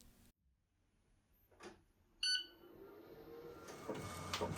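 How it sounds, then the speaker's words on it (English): DTF transfer printer at home starting to print a design: near silence, a faint clunk, then a sharp electronic beep followed by a steadily building mechanical whir and rattle as the print head begins moving. "the printer starts printing out my design"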